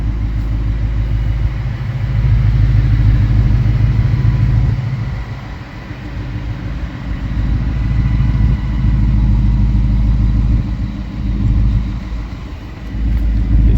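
A car engine fitted with an MBRP Street 3 inch exhaust idles and revs nearby, a deep steady rumble that swells twice with throttle and settles back, loud with no talking over it.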